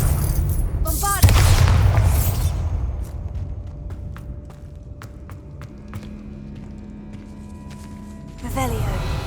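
A Bombarda blast spell in the Hogwarts Legacy game, a heavy booming explosion followed by scattered debris clatter and ringing tones as it fades, with another rumbling impact near the end.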